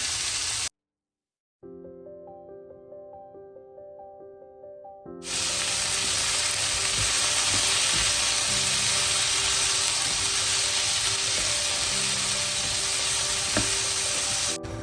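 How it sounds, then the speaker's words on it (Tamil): Peas and tomatoes sauté in a pan for Sri Lankan sambar. A brief silence and a low tonal hum come first, then a loud, steady broadband sizzle that carries on to the end. "இனிமே இந்த பட்டாணியையும் தக்காளியையும் வளங்க விடுவோம்"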